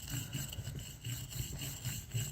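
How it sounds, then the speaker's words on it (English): A wire brush scrubs excess rust off a car starter motor in quick, rhythmic back-and-forth strokes, faint and close up with no talking. "get any of that excess rust off like this maybe."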